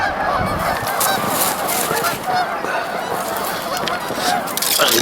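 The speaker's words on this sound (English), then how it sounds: "there's actually 2 geese down here right by the camera" Geese honk repeatedly beside an icy river in snow, loud overlapping calls close by over a steady rushing background.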